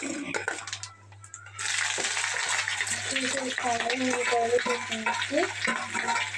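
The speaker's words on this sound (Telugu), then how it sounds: "ఇప్పుడు బాగా వేయించుకోవాలి ఉల్లిపాయలు పచ్చి ఉల్లిపాయలు" Raw onions fry in a pan with a steady broadband sizzle that starts abruptly and continues, while a voice talks over it and a low electrical hum runs underneath.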